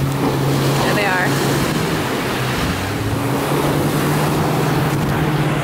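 Surf washes and churns continuously along a seaweed-filled Miami beach, a close, loud rush of water with a motor-like hum running underneath and voices faintly present.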